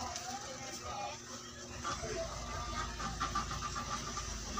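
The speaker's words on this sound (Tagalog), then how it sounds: "Ay, umugong siya guys." Washing machine spin motor with a suspected burnt fault humming after being plugged in, a low steady drone that rises and holds, with a voice speaking briefly near the start.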